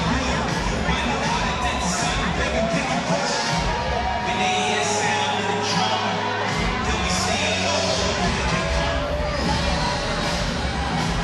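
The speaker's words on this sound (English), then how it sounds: "Crowd getting ready here" A stadium crowd murmurs and cheers ahead of a USWNT vs Belgium women's soccer match, with a dense, steady roar of chatter, whoops and shouts filling the whole stretch.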